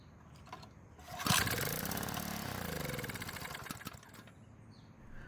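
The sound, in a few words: small engine starting briefly on carb fuel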